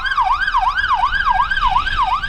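An ambucycle siren wails through Jerusalem streets, a loud, close, rapidly rising and falling electronic tone repeating about every third of a second without pause.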